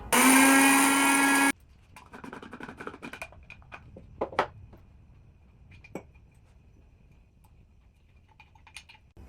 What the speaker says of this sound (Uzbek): hammasini yaxshilab kofemolkada aralashtiramiz. Maydalaymiz. Un holatiga kelguncha maydalaymiz.